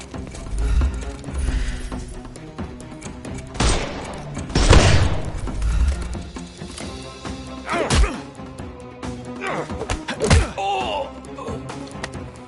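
Gunfire from enemy thugs in the video game Sherlock Holmes Chapter One, several loud, punchy bursts and impacts scattered at uneven intervals over a busy game music and ambience bed, with some voices.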